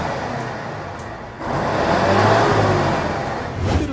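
A V12 truck engine with two huge upright exhaust stacks revs hard, idling low and then surging into a loud, sustained roar that eases off briefly before climbing again.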